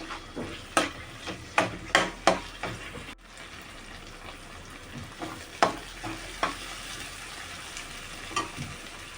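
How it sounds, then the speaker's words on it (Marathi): Chopped tomato frying in oil in a pan for Maggi masala rice, a low sizzle under repeated sharp spoon knocks and stirring taps against the pan, with a short quiet gap midway. "आता आपण त्याच्यामध्ये टोमॅटो घेतला कापून तो पण टाकू आणि नरम व्हायला द्यायचं आहे टोमॅटो तेलामध्ये"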